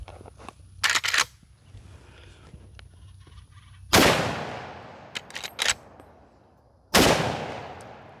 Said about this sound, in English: I'm going to load up a couple of more shots and we'll bust some of those targets